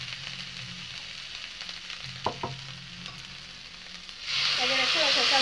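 Mustard paste for shol fish curry frying in oil, a soft sizzle with a couple of sharp utensil taps, then a sudden loud hissing surge as the paste hits the hot oil and gets stirred.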